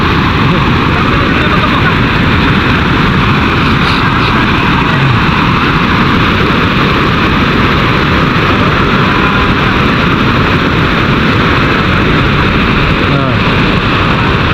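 A motor engine drones steadily and loudly at close range outdoors by a dam, a constant rumbling hum with no break across the whole stretch.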